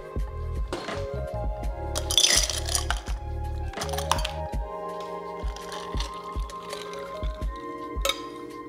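Ice cubes dropped into freshly hand-brewed pour-over coffee, a series of close clinks, knocks and wet squishes as the cubes settle and crack in the liquid.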